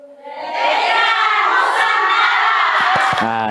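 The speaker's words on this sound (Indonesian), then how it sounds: "Tepuk tangan" A studio audience of mostly women on an Islamic talk show erupts in cheering and clapping, a loud swell of shouting voices that ends with a few sharp claps.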